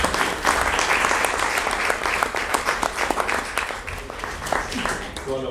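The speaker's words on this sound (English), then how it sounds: "I think we should give a round of applause to Pepper and the students" An audience in Parliament applauds Pepper the robot and the students, dense steady clapping that fills the room and slowly thins toward the end.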